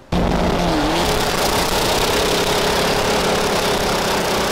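A Volkswagen Golf 4 1.9 TDI diesel engine idles loudly and steadily after a quick start, a close, continuous rough rumble with a faint whine.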